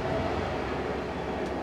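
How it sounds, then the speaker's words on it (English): A train rumbles past nearby at a steady, loud level, its low broadband roar unbroken with no voices over it. "Fucking trains."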